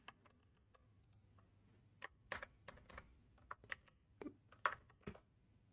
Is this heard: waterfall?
no